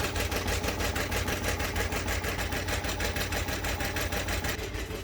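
A Bai embroidery machine stitching a test design, with a steady, fast mechanical chatter of rapid needle strokes over a constant motor hum, close and continuous throughout.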